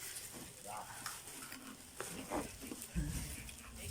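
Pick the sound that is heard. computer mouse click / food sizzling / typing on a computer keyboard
food sizzling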